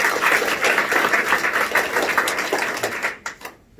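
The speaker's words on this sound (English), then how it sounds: "Let's give all of them a round of applause." Applause from a local GOP meeting audience for state representative candidates, a steady patter of clapping that fades out near the end, fairly quiet and alone.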